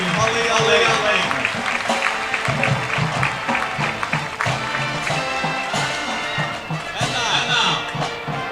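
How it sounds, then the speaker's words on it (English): Loud applause and crowd noise for the candidates and queen at a high school homecoming football game, sustained clapping from the stands with voices and other noise mixed in throughout. "How about a night of applause for all the candidates and the 2023 homecoming queen, Aaliyah Layton."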